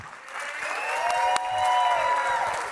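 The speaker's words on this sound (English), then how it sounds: "make sure you clap loud and hard for this gentleman" A crowd applauds a guest speaker as he is welcomed onstage, steady dense clapping that swells and holds throughout, with a faint sustained musical tone underneath.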